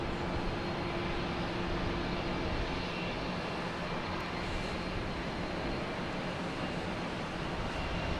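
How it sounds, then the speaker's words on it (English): A Lufthansa airliner landing at Boston Logan Airport makes a steady, broad roar of engine and rushing air, heard from a distance and holding an even level throughout. "Yeah, that was a great landing"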